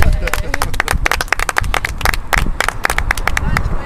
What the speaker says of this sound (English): I think we should all just give ourselves a collective round of applause